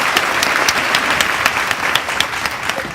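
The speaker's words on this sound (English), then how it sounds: "Y'all give them a hand clap." Hand clapping from an audience in a room, dense and steady for a few seconds with sharper individual claps standing out above a continuous wash.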